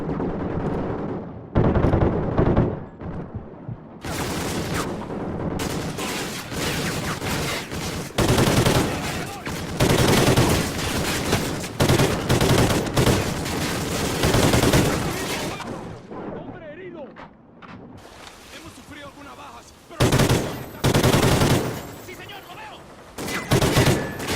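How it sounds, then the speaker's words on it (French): Sustained bursts of gunfire from the Call of Duty Ghosts campaign, loud and dense with rapid automatic volleys and heavy blasts, broken by brief lulls. "je tire sur mon allié"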